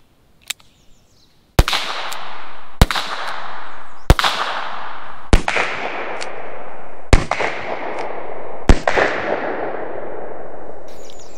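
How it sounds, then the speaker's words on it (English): A High Standard .22 pistol fires outdoors at a range, a series of about six sharp, loud cracks spaced a second or two apart, each trailed by a long ringing echo tail that overlaps the next shot. "Let's do three rounds from the high standard."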